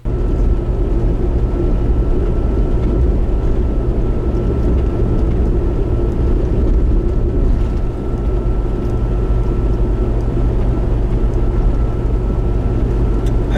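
Steady low road rumble and tire drone fill a car cabin fitted with sound deadening, a constant broadband hum with no voices.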